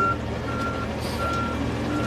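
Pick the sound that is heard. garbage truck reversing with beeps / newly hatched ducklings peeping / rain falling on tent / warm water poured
garbage truck reversing with beeps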